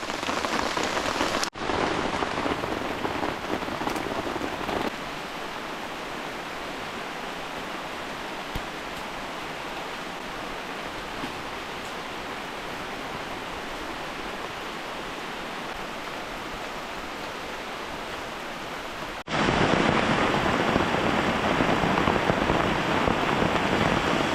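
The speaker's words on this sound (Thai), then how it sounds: "ตอนนี้ครับเพื่อนๆฝนตกหนัก นะครับไม่หยุดเลยนะครับ" Heavy rain pours nonstop onto a mountain forest in a steady, dense hiss, with the level dropping somewhat for a stretch in the middle and then surging back louder near the end.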